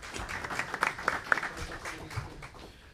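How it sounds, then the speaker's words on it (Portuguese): Scattered, fairly quiet applause from a small audience at a public hearing of an environmental commission, light claps rising and fading over a few seconds with no voices. "uma salva de palmas."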